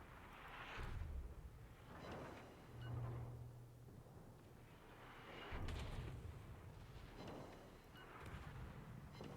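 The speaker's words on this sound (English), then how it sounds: "We're just trading shots at this point." Naval cannon fire in the World of Warships video game: heavy, rumbling booms roll in every couple of seconds over a constant, dense battle din, with no voices.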